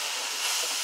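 Masala pork with onion and garlic sizzles steadily in a hot pan, a dense, even hiss that stays close and continuous with no talk.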